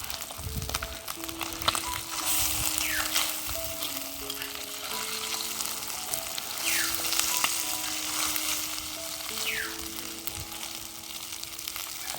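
Ingredients frying in hot oil in a pan until reddish, with a continuous dense sizzle and crackle, steady and fairly loud, with some faint clatter underneath.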